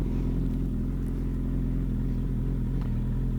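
A 1997 Suzuki Bandit 1200 motorcycle that has been having engine trouble idles and pulls away, a steady loud low engine drone close by with no voices.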